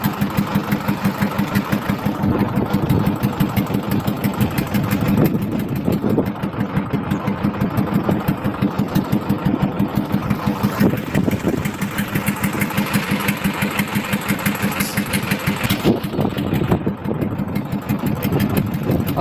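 A trawler boat's engine chugs steadily on the Shibsa river in the Sundarbans, a continuous mid-pitched idling drone with a regular pulsing beat that stays loud and close the whole time.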